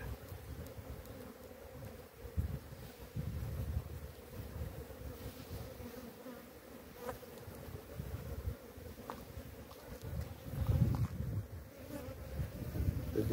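Honey bees buzzing around an open hive during beekeeping work on a two-queen system with a third box, a dense, steady drone of many bees close by that swells and eases, with no talking.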